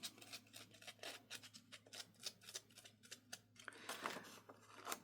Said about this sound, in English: So she takes her scissors